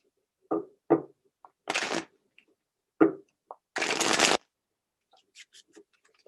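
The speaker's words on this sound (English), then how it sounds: "Just shuffle a couple more times, and then we will cut the deck" Crisp riffle and shuffle of a tarot card deck in several short bursts, with taps and light snaps of cards between them, close and otherwise quiet.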